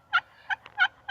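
A Quaker Boy Turkey Thugs glass turkey call gives four evenly spaced raspy yelps, loud and close, with brief pauses between each note.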